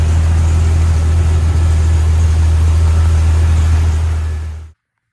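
A car engine with newly replaced four-hole fuel injectors idles steadily and loudly up close, a constant low rumble running without a break before cutting off abruptly near the end.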